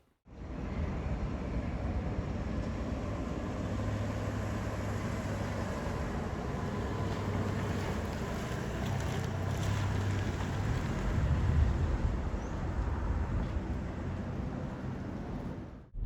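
A Chrysler Caravan minivan with a 4-cylinder engine driving, heard from the cabin as a steady, even low rumble of engine and road noise with a layer of wind hiss, unbroken for the whole stretch and with no talking.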